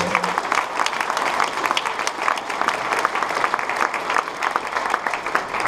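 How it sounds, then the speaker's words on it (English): Sustained audience applause for sponsors at a big data technology conference in Los Angeles, a dense, even roar of many hands clapping throughout, fairly loud and close, with no speech over it. "So if you can give another round of applause for all of our sponsors."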